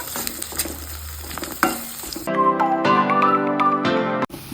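Green chillies frying in hot oil while being stirred for an apple, cherry and date pickle, with a steady loud sizzle, scraping of the spoon, and then bright clinking and ringing tones over the frying.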